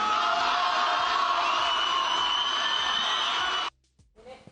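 A large crowd in a political TV studio audience breaks into loud, dense cheering and applause that holds steady for several seconds, then cuts off abruptly into near silence with faint movement after.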